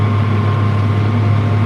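John Deere 9300 tractor pulling a plow during fall tillage, with a loud steady diesel engine drone heard up close inside the cab and no voices.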